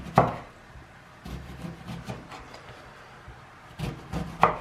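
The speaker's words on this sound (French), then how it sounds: "on va le couper en rondelles comme ça" Knife slicing a lemon into rounds on a cutting board for a ginger, honey and lime drink: a few sharp cuts and soft board knocks, spaced irregularly with quiet pauses between.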